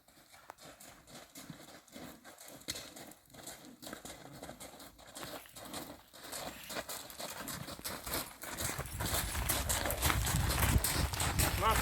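A horse pulling a cart trots with a steady clip-clop of hooves, and a rushing rumble grows louder toward the end.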